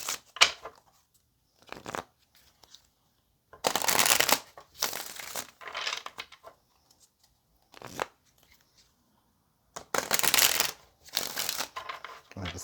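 Tarot cards being shuffled by hand in bursts of riffling and sliding, several separate shuffles with quiet pauses between them, close and clear with no talking.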